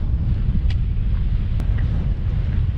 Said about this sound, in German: die Tonaufnahme wird bestimmt nicht so schön sein durch den extremen Wind